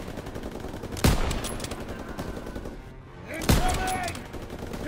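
Gunfire and machine gun bursts in a World War II battle from the video game Call of Duty: WWII, with two loud sharp blasts standing out over continuous distant rattling shots and battle noise.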